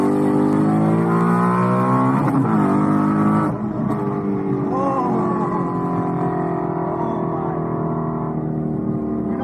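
A Ford Mustang Mach 1 (S550) V8 winds up hard toward its redline, a loud, close, rising engine howl with gear-change dips, sustained for the whole stretch without speech.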